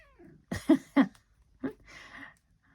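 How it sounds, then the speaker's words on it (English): A few short cat meows in quick succession, fairly close, followed by a softer drawn-out vocal sound and quiet pauses. "she meows at me like I can understand her"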